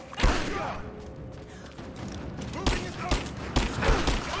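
Sniper and other gunfire in the video game Rise of the Tomb Raider, several sharp loud shots landing irregularly toward the end over game noise, with voices talking through it.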